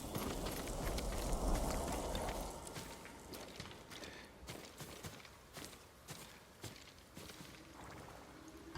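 Horse hooves clip-clopping at a walk in the samurai game Ghost of Tsushima, a steady rhythmic patter of steps under dense ambient noise, louder early on and fading to scattered softer footfalls.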